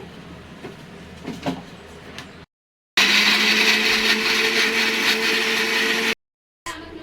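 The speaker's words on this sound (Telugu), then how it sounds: "ఇప్పుడైతే ఇది మిక్సీ చేసుకోవాలి." A mixer grinder blends crab curry masala at close range, a loud steady whirring roar in two bursts with short silent pauses, after a few seconds of quieter handling clatter.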